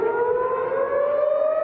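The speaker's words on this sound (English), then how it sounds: "Air raid sirens sounding off in the Tel Aviv area" A steady air raid siren in the Tel Aviv area wails loud and continuous, its tone slowly rising, with no voices over it.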